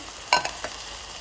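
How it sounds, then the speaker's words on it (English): Canned black beans poured with their juices into a hot pan, a wet splash and brief sizzle at the start, then a couple of softer settling hisses fading against a steady faint background. "And now time to add the black beans and their juices in."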